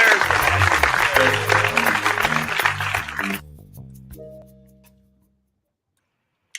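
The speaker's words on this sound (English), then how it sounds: "round of applause" A short burst of studio or audience applause on a beer-tasting show, dense clapping for about three seconds that cuts off abruptly, followed by a fading musical sting with sustained tones dying away to near silence.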